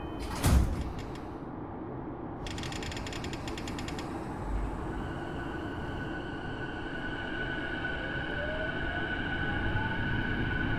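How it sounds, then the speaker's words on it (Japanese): Sliding doors of a Keiyō Line commuter rapid train closing in the Bve5 train simulator game: a sharp mechanical knock, then a rattling ratchet-like burst, followed by a steady hum and rising motor whine, loud and close. "ドアが閉まります"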